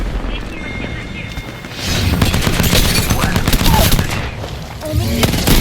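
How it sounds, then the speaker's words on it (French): Gunfire aimed at the player in a video game, heard as loud, dense bursts of rapid shots and booms that build after a quieter opening and continue to the end, with no talking. "L'ennemi me tire dessus."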